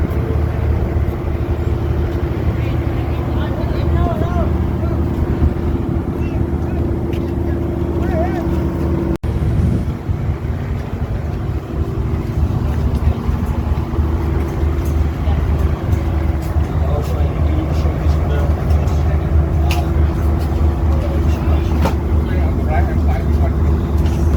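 Speedboats and a ferry at the Phi Phi Island pier in Thailand, a loud continuous engine rumble and churning drone close by, with people talking over it throughout.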